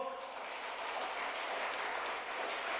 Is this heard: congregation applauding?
yes